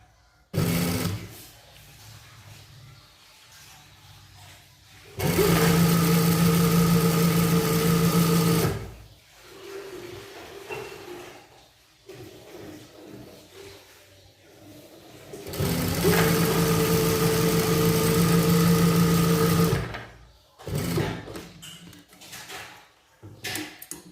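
A sewing machine stitches a border onto a girls' frock, running in two long, steady, loud bursts separated by quieter handling noise.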